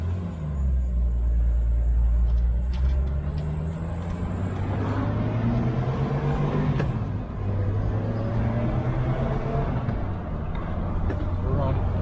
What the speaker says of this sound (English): put some miles on this old Jeep. Run around town for a little bit